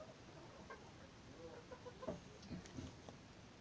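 Several chickens cluck softly in short bursts close by while being fed, with scattered pecking and rustling over a low outdoor background.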